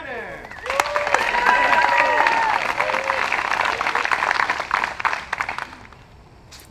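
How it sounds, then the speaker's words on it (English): Loud applause and scattered cheers from spectators at a professional disc golf playoff tournament swell quickly, hold for several seconds, then taper off, with a voice talking over the crowd. "That was a very loud applause."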